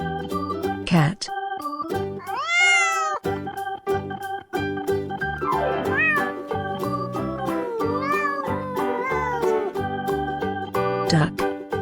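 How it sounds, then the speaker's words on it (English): Cat meowing in a children's farm-animal lesson, several drawn-out, rising and falling meows over a cheerful music track. "cat"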